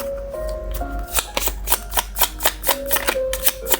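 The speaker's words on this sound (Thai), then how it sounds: "ทีนี้มาดูออร์เคิลกันว่าคุณ ได้ไพ่อะไรนะคะ" Oracle cards being shuffled for a tarot reading, a run of crisp, evenly spaced riffling snaps close by, with soft background music underneath.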